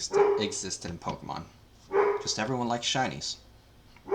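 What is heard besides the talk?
dog barking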